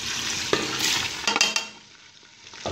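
Chopped onion dropped into three tablespoons of hot oil, a few clattering knocks and stirring scrapes over a steady close sizzle that eases off toward the end; no one speaks.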